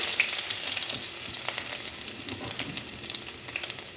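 Mustard seeds, chopped ginger and garlic fry in hot oil, a steady close crackling sizzle with scattered small pops, moderately loud and continuous.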